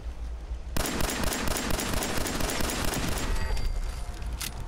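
Turret gunfire in Fallout 4: a sudden burst of rapid, dense automatic fire starts after a quiet moment and keeps rattling loudly and continuously to the end, with a few sharper shots near the close.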